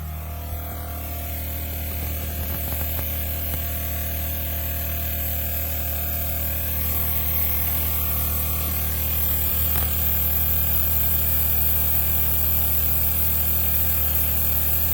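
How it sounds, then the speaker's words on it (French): Air leaking from a suspension air bellows on a 2009 Citroën C4 Picasso, a steady hissing rush under a constant low mechanical hum that holds without break throughout. "on entend le bruit d'air qui démontre tout simplement la fuite du boudin"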